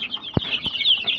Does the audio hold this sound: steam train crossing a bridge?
no